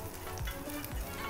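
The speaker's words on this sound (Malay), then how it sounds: "Saya ambil sikit macam tu dan saya akan goreng dia." A burger patty fries in a pan, giving a steady, close crackling sizzle with no talking.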